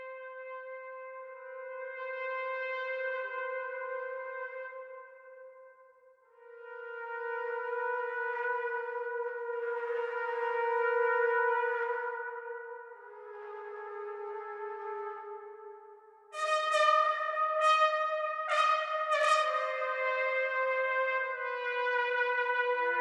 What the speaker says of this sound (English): let's just take a listen to our solo trumpet here